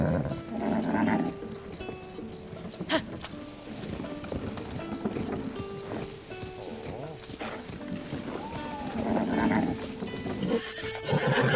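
In The Legend of Zelda: Tears of the Kingdom, a horse pulling a cart whinnies and snorts between the steady clip-clop of hooves, with a busy game backdrop of layered ambient sound.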